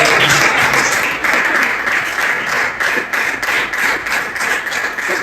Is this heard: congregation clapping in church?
yes